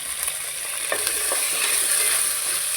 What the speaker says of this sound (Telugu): ఎర్రగడ్డలు కొంచెం వేగిన తర్వాత పచ్చిమిరపకాయలు వేసుకొని అవి ఒక 2 నిమిషాలు వేయించుకొని అందులోనే మునక్కాయలు వేసుకోవాలి.